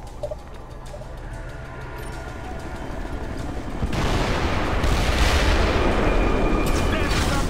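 Planted demolition charges go off in a Ghost Recon Future Soldier mission, a loud broad roar of blasts starting near four seconds and sustained to the end over earlier background battle noise.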